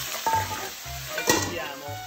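Clams poured into a hot pan just after garlic is removed, sizzling steadily with a couple of louder clattering splashes as shells hit the oil and are stirred.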